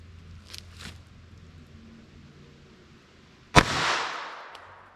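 A single sharp gunshot from a .32 ACP pistol firing a Winchester FMJ round into ballistic gel cracks loudly and rings out briefly, following a couple of faint handling clicks in a quiet outdoor setting.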